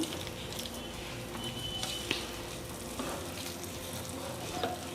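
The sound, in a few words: mixing egg and milk batter for omelette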